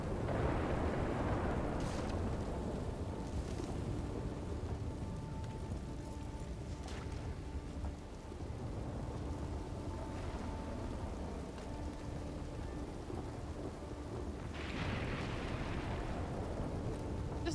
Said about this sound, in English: Storm sounds are loud.